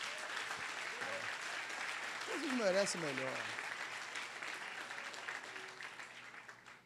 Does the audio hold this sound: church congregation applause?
yes